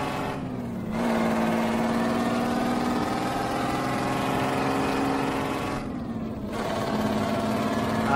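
A truck engine in Euro Truck Simulator 2 drones steadily with a low, even hum, its pitch holding roughly level, with brief dips at the start and near the end, and no talk over it.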